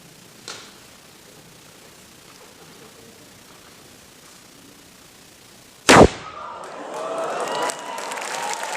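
A potato cannon fires once, a sharp loud bang about two-thirds of the way in, as a potato shoots through a water stream. Quiet ambience and a faint thump come before it, then crowd noise and cheering at a Latke–Hamantash event.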